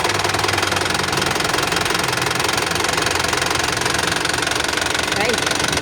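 An Isuzu 4JB1 2.8-litre turbo intercooler diesel engine runs steadily with a dense, even clattering knock, loud and close, sustained throughout with a faint voice in the background.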